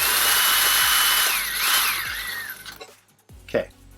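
A power drill grinds through the top of a rivet on a Dell Optiplex case, a loud continuous whine with a shifting pitch for about two and a half seconds before it cuts off, followed by a few faint clicks and a brief scrape.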